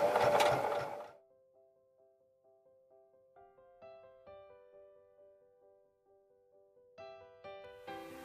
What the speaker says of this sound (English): Put the needle down, get your foot pedal, and then gently sew around the edge of it.